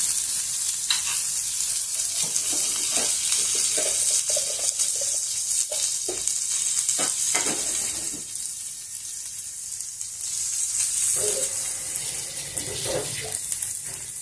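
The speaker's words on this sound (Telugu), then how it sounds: "పచ్చి కొబ్బరి కూడా కొంచెం వేగనిద్దాము" Grated fresh coconut sizzles in hot oil in a pan alongside roasted urad dal, a steady soft frying hiss with occasional stirring scrapes, no voices.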